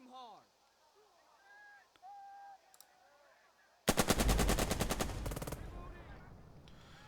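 A sudden burst of rapid machine-gun fire erupts from units shooting in the Burden of Command war game, loud and rattling for under two seconds before fading into echoing battle ambience, after quieter game tones and chirps.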